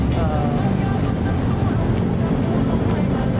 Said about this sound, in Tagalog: Traffic na rin pala dito, no?